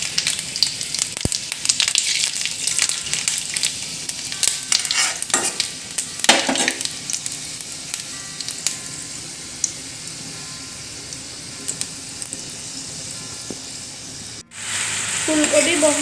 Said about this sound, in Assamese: তেল গৰম হ'ল, ইয়াত শুকান জলকীয়া দুটা দি দিছোঁ।